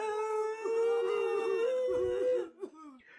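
Two dogs howling together in a long sustained wail that wavers and bends in pitch, trailing off near the end into a short yelp and whine.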